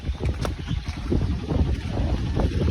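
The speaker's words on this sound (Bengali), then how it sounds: "আর এদিকে কি হাওয়া দিচ্ছে" Strong wind gusts roar and buffet the microphone outdoors, a rough, rumbling low-pitched blast that surges and dips unevenly, close and loud, with no speech.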